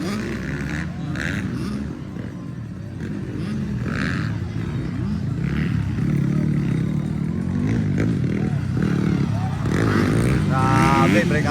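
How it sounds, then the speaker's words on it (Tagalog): Motocross motorcycles in a ladies' open race on a Mindanao dirt track, engines revving and whining at a distance under continuous excited commentary from an announcer. "Sigsag-sigsag ang motor niya rin, Narido."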